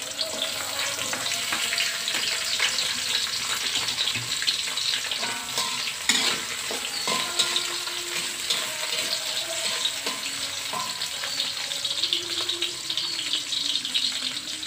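Sliced spices, with petai and galangal nearby, sizzle steadily in a hot pan, a continuous close frying hiss broken by occasional scrapes and stirring clatter, with no talking.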